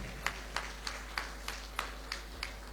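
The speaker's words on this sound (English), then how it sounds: "a round of applause for him" Sparse, steady applause at a military pilot winging ceremony, at an even pace of roughly three claps a second, faint and distant over a low hum.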